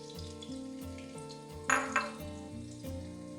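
Sliced sausages frying in hot vegetable oil, a steady close sizzle with a low hum and occasional clinks of a utensil against the pan, plus a brief louder crackle midway.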